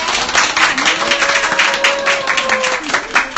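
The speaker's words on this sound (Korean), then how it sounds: "자, 다 같이 박수 한번 칠까요?" Audience clapping together at a political talk event in Gimcheon, a dense steady wash of many hands filling the room, with a voice speaking over it.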